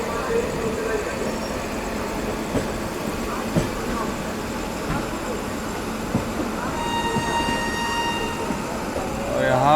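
Vikramshila Express rolling into a junction in heavy rain, a loud continuous rumble of carriages with a horn-like tone near the end, and a voice talks over the noise.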